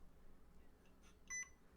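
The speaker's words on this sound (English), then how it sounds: "Oh, it doesn't have weight, so it's gonna beep." A camera gimbal with no camera mounted gives a single short, high electronic beep, close by and clear above a faint hum of room noise, with a few soft clicks just before it.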